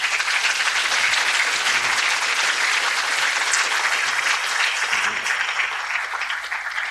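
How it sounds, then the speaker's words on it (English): Audience applause at a G20 development forum in Indonesia: dense, steady clapping from a full crowd, loud and continuous for several seconds with no voices over it. "Clap again, please, for Sri Mulyani."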